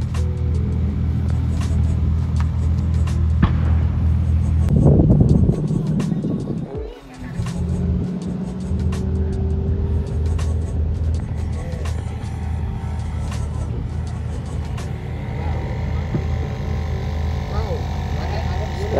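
A Lexus GS400 drift car's engine drones steadily at a raceway, with a louder surge around five seconds before a brief dip, then a sustained hum and rumble continuing throughout.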